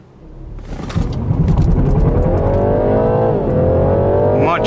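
A BMW G20 330e accelerating hard from a standstill with traction control fully off, its engine note climbing steadily and loud for several seconds with a brief shift dip, close and alone with no talking.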